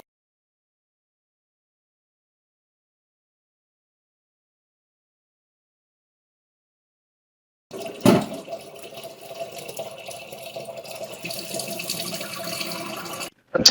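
Water from a kettle fountain runs straight down into a sugar bowl, a steady close trickle that starts abruptly after a long silence and continues alone.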